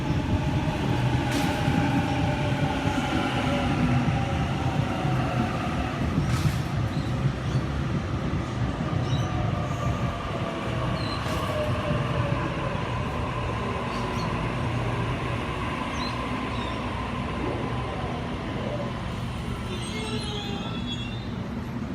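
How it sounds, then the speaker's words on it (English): A Sydney Waratah electric train departs a station platform at Thornleigh, with a steady rumble and rising motor whine that builds and then slowly fades, heard at moderate distance. "Waratah at A31 is now departing platform 3 for a Hornsby service, stopping at Normanhurst then Hornsby."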